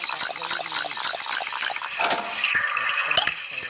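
Water pouring and bubbling for boiling broccoli in the cooking game Toca Kitchen, a soft running trickle with light splashy taps, fairly quiet and steady.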